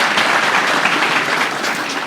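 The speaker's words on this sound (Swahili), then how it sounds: "tumpigie makofi" Dense, loud crowd applause at a community gathering honouring a leader at Kapsabet, a continuous wash of many hands clapping at once, steady throughout with no voices standing out.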